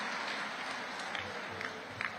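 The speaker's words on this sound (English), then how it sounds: "I want you all to give yourself a big round of applause." Applause from a large conference audience in Lagos at an annual gathering, a steady wash of clapping at moderate level with a few louder claps near the end.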